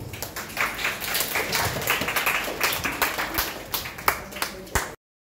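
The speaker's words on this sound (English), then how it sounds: "You did well, clap yourself." Students at a school prefect speech event clap for themselves, producing a dense patter of hand claps from a group that keeps going for about five seconds before cutting off abruptly.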